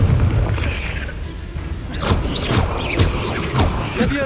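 A Confringo fire spell explodes in the Hogwarts Legacy video game, a loud booming blast followed by a run of rumbling impacts and crashes within the game's dense soundscape.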